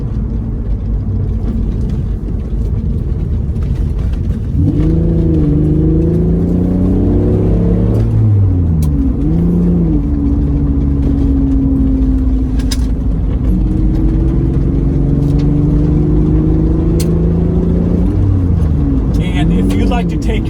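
Mitsubishi 3000 GT sports car driven through corners, its engine droning loud and close with rising and falling pitch as it accelerates out of each bend, with a voice talking over it.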